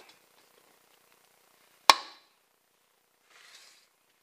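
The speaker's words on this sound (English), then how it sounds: "you open the sure clamp, slide it over the flanges," A stainless steel duct clamp snaps shut over the flanges of a duct joint with a single sharp metallic click, close and alone, followed by a faint brief rustle.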